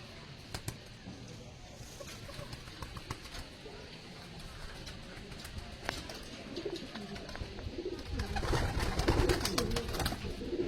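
Andhra breed pigeons coo softly in a loft, overlapping low murmuring calls with scattered wing flutters and clicks, growing busier toward the end.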